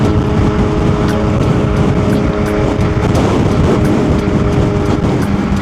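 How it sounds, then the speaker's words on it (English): Strong gusty wind buffets an outdoor microphone near a bridge construction site, a loud continuous broadband roar with low rumble throughout, steady and close with no speech. "this wind is crazy"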